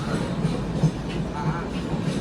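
Steady rumble of a moving passenger train on its rails, a continuous rolling roar with faint rhythmic clatter and no break.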